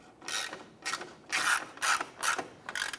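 A bolt is snugged down through the bumper cover into a fog light retainer on a 2005-2007 Ford Five Hundred, heard as about six short, close ratchet bursts in a quick irregular rhythm with no talking.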